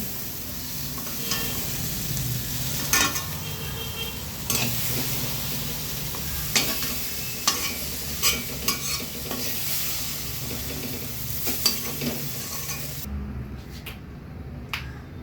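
Eggplant pieces fry in hot oil while being stirred, a continuous close sizzle broken by sharp scraping and tapping clicks of the utensil against the pan, with no talking.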